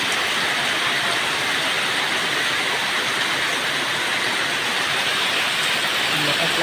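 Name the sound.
heavy rain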